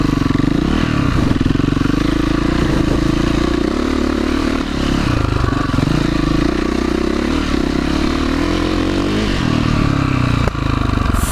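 A KTM motorcycle ridden outdoors, its engine droning loud and steady close by for the whole stretch with a low rumble, slight pitch rises as the throttle moves, and some clatter and scrape over the top.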